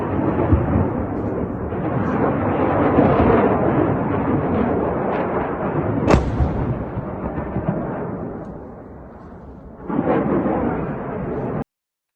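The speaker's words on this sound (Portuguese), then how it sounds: "Está aqui a explosão, muitas explosões aqui" Heavy bombing of a munitions site at Al-Qaim in western Iraq: a sustained rumbling roar of explosions with one sharp blast standing out midway, then a fresh surge of secondary detonations near the end.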